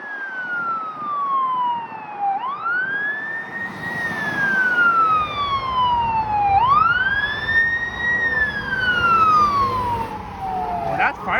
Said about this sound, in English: How on earth we have so many loud fire trucks along this stretch in North York?